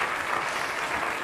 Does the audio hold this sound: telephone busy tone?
no